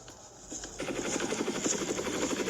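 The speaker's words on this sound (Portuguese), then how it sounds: "Subiram para o helicóptero e partiram." A helicopter taking off, its rotor chopping faintly at first, then swelling into a dense rapid thumping that grows louder and steadier as it lifts.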